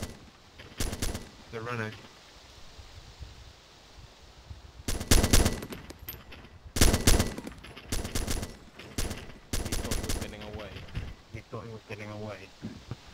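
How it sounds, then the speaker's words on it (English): Bursts of machine gun fire in the military video game ArmA 2, several separate volleys of varying length spread across the scene, with people talking over and between them. "Machine gun fire. Machine gun fire."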